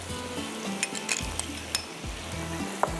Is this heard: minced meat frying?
yes